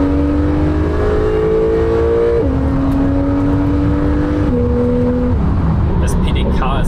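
Porsche 911 Carrera 4 GTS of the 991.2 generation with 450 hp and a PDK gearbox accelerating hard, loud engine tone climbing and stepping down at each quick gear change, heard from inside the cabin.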